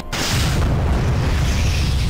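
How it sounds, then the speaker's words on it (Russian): An atomic bomb goes off in Garry's Mod: a heavy, continuous low rumbling blast that starts abruptly and roars steadily at loud level without fading, with no talk. "Атомная бомба."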